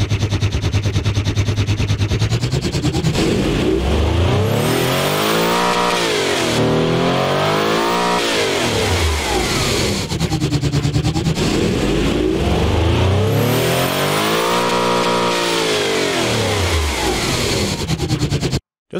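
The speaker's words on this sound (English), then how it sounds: "And now let's get to hear what this powerful engine sounds like right now" Loud V16 engine revving up and down in the video game Automation, repeated sweeping rises and falls, a powerful high-pitched roar that stays close and continuous throughout.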